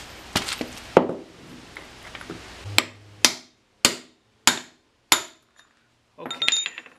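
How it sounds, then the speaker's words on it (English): A hammer drives a universal joint bearing cap out of a driveshaft yoke, with no press used: some scattered knocks, then five sharp, evenly spaced metallic strikes ringing out loudly and close, followed by a brief rattle. "hit it a couple more times until we bottom out right here"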